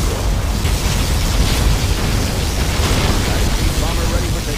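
A particle cannon blast in Command & Conquer Generals Zero Hour roars as a loud, sustained explosive rumble, with dense broadband noise running steadily for several seconds and no clear gaps.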